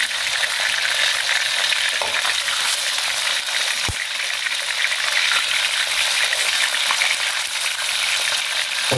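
Steady, loud sizzle of chicken frying in a pan fills the whole stretch, a dense crackling hiss with occasional sharper pops, no voices.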